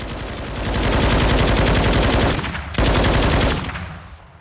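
An NG-7 light machine gun from Call of Duty Modern Warfare II fires full auto in one loud, sustained burst of rapid shots, breaking off briefly midway before resuming, then trailing away.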